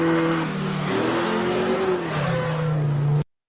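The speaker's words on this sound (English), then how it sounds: "the prompt for this one is a car engine revs" AI-generated car engine revving, a loud continuous mid-pitched drone that rises and falls in pitch for about three seconds before cutting off abruptly.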